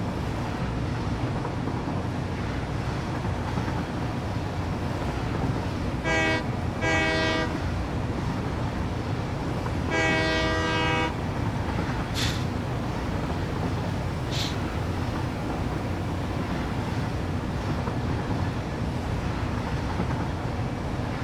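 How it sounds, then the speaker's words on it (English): Train in the video game Satisfactory rolling past with a steady rumbling wind-like roar throughout, broken by two short horn blasts and a longer horn blast, plus a couple of brief high squeals. "That's the train."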